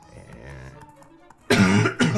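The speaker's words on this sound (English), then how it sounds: "Excuse me for coughing." Someone clears their throat and coughs twice in two loud, close bursts, after a short stretch of quieter muffled vocal sound.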